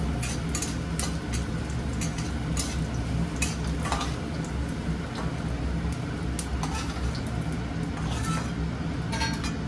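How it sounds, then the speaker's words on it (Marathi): Raisins fry in a pan while being stirred, giving a continuous soft sizzle broken by light scraping and occasional metallic clinks of the spoon against the pan. "मनुके फ्राय करून घ्यायचे"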